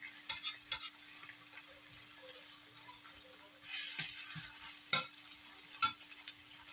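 A couple of small ham slices frying in a pan in a home kitchen, a quiet sizzle broken by several sharp clicks and scrapes of a utensil, growing slightly louder partway through.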